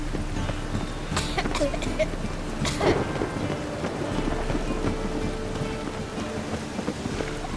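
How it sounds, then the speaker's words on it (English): Steady rain falls with rumbling thunder in the video game The Witcher 3, forming a dense, loud wash of noise with a few sharper crackles, while a voice speaks faintly underneath. "Rain was coming."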